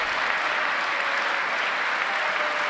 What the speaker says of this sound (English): Time to stand and clap again